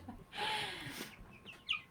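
A light blue splash-coloured hen gives a few short, nearby clucks after a brief burst of broadband noise.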